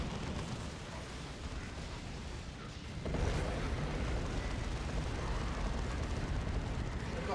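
Battle explosions in the Dawn of War 2 strategy video game, a dense rumbling roar of blasts and booms that swells noticeably louder about halfway through and continues without pause.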